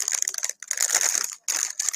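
Crisp plastic packaging crinkles and crackles in quick bursts, with two brief pauses between handfuls of rustling, close to the microphone.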